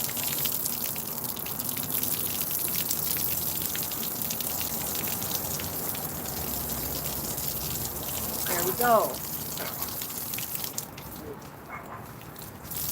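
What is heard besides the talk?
water being squirted on patio and plants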